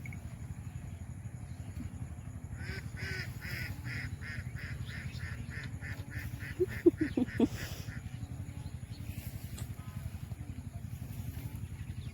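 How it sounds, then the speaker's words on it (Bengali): A village duck quacks in a short burst of several calls midway, moderately close, over a steady low rumble of outdoor background noise. "এটা কি হাঁস?"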